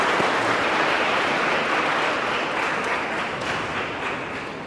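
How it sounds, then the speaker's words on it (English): Dense, loud audience applause filling the hall at a talk on Operation Sindoor, a continuous roar of many hands clapping that holds steady and fades slightly toward the end. "Another round of applause."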